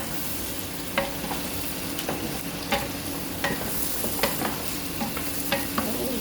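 Chicken frying for Filipino salona sizzles steadily in a pan, with a broad hiss and sharp clinks of a utensil stirring and scraping at irregular intervals; no one speaks.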